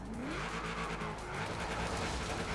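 An AMC Javelin AMX drifts in Forza Horizon 4, its engine droning with shifting pitch under a steady tire-squeal wash, loud and continuous throughout.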